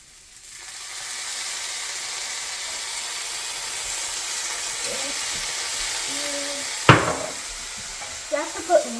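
Egg hakka noodles with vegetables are stir-fried with soy sauce in a street-food style kitchen, a steady close sizzle with scraping stirring and a sharp clank near the end, while a voice speaks faintly under it.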